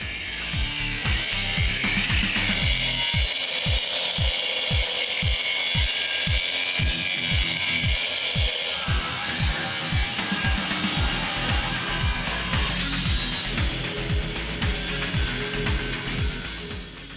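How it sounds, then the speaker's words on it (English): A cutoff wheel slices through a steel custom bumper, giving a continuous high grinding whine with rapid rhythmic low chatter as the blade bites the metal, loud and close, with no talking. "I switched over to a cutoff wheel for a more precise cut."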